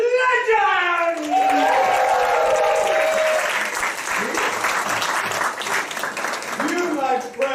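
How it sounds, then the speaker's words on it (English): Audience applause and cheering at an improvised Dungeons & Dragons theater show, a full burst of clapping with whoops and raised voices rising over the crowd and continuing steadily. "Give a round of applause to the heroes of legend!"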